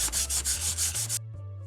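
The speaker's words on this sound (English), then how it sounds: "That's why it's called wet sanding." Rhythmic back-and-forth wet sanding on a Digimon Accel toy casing, about eight close, loud, scratchy strokes, then it stops abruptly, leaving a low hum.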